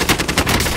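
Rapid automatic gunfire in Warzone, a quick burst of about eight evenly spaced shots in under a second, loud and close with no talk over it.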